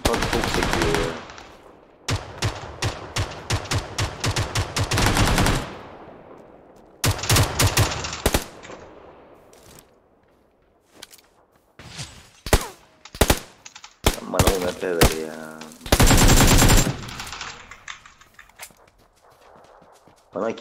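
Gunfire in the battle royale game PUBG Lite on the Erangel map: rapid automatic bursts and single shots in repeated volleys, loud and close, separated by short quiet gaps.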